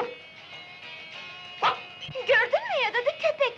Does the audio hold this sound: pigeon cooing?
no